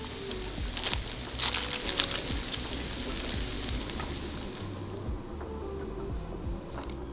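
A burger patty and onions frying in a pan with nonstick spray, giving a continuous close, crackling sizzle with faint scraping and stirring noises mixed in.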